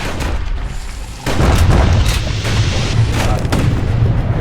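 Heavy booming gunfire from a security skiff's guns in the video game Bastion, several loud blasts rolling together over a dense, rumbling background after a quieter opening.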